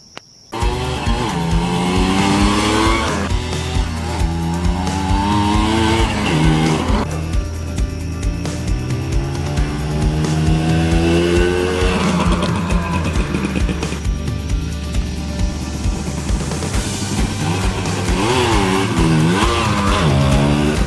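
A modified Honda Tena motorcycle converted into a dirt bike revs loud and close throughout, its engine pitch repeatedly rising and falling as it accelerates and eases off while being ridden.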